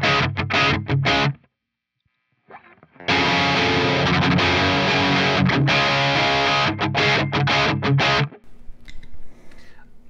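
A heavily distorted electric guitar plays chugging riffs through an STL Tones Marshall-style JCM 800 amp plugin, loud and dry, in choppy bursts broken by a short silent pause, with notes ringing out at the end.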